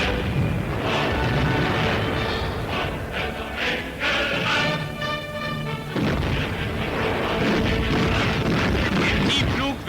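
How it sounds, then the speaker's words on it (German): Anti-aircraft flak fire and bomb explosions from a 1940 German newsreel of the Battle of Britain, a dense, continuous barrage of booms and crashes with a narrator's voice over much of it. "Die englische Flak schießt viel zu kurz."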